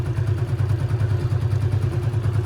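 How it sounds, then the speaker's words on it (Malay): An LC motorcycle engine idles just after its rotted fuel hose was replaced with a car petrol hose, a close, steady, pulsing putter with light mechanical clatter and no talk. "So sekarang motor dah hidup."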